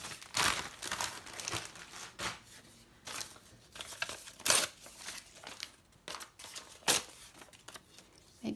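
Packing paper is crumpled by hand for collage work on an altered book, a series of close, crisp crinkling bursts with short pauses between them.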